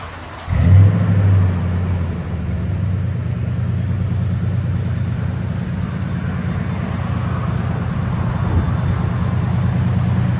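A 2020 Toyota Tundra 5.7L V8 with an X-pipe and Flowmaster Super 40 exhaust idles steadily, a loud, close, deep rumbling drone that holds even throughout with no voices.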